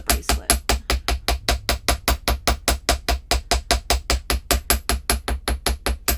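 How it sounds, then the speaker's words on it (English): A hammer strikes a wire bangle bracelet laid flat on a hard surface, about four even metallic taps per second, loud and close, with no talking. "I'm going to hammer with the bracelet laying down"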